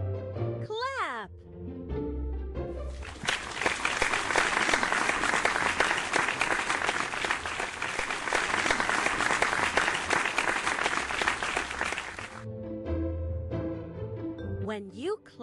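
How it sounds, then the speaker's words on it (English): Sustained applause of many hands clapping in a children's alphabet learning show, loud and dense for about nine seconds, with a voice and musical tones before and after. "When you clap, you hit your hands together to show appreciation or attract attention."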